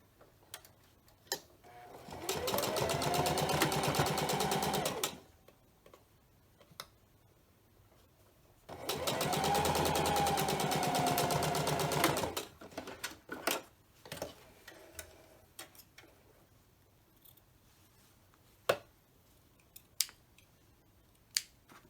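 A home sewing machine stitches fabric for a pleated pocket mask, running in two steady buzzing bursts of a few seconds each, close and fairly loud, separated by quiet clicks and handling of the cloth.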